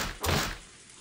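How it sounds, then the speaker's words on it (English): A door to a VIP room in the visual novel game Umineko, struck hard with a fist: one heavy, loud thud that fades over about a second, with no voices. "she hit the door to the VIP room."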